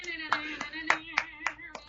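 Half a dozen sharp hand claps at a moderate, slightly uneven pace come from a few people in a small room, with a sustained sung or hummed tone under them.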